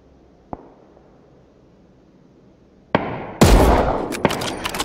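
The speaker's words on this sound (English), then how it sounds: "And he was shooting after me." Gunfire in the battle-royale shooter PUBG: a faint single crack early, then a loud burst of shots that runs on as a dense rattle for the final two seconds, with no talking.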